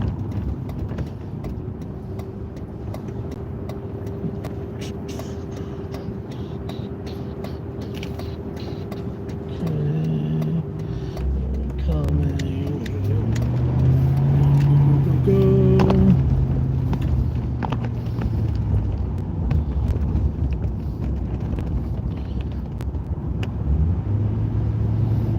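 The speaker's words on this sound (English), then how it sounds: "Just driving through downtown Towson right now." Car driving through downtown Towson, Maryland: a steady low road rumble and engine drone throughout, swelling louder past the midpoint with a passing vehicle's hum, no talk.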